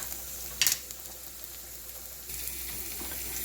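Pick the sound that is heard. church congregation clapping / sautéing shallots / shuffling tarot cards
sautéing shallots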